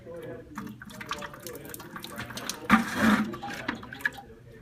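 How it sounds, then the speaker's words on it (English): Water rushing from an opened test cock valve on a backflow preventer, a hissing broadband spray that swells midway and tapers, with people talking nearby. "open up this test cock. Now you're going to get some water."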